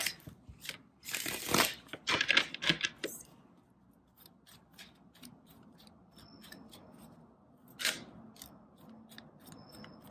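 Tarot cards being shuffled by hand, bursts of crisp riffling and flicking in the first few seconds, then quieter scattered card slaps and rustles, close up.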